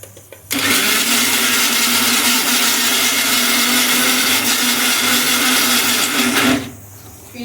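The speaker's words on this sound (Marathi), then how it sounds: "तर आता याच भांड्यामध्ये मी कैरी वाटून घेणार आहे. आपण यात थोडंसं पाणी ॲड करणार आहोत आणि वाटून घेऊया मिक्सरला." A kitchen mixer grinder blends raw mango with a little water. After a short pause it starts with a loud, steady whir that runs for about six seconds before winding down and stopping.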